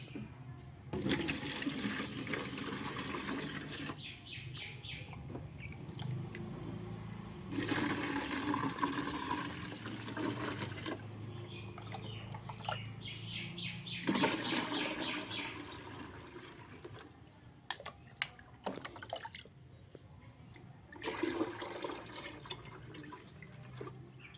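Fertilizer solution poured into a watering can for feeding grape vines, a steady watery splashing that comes in several sustained bursts with short pauses between them.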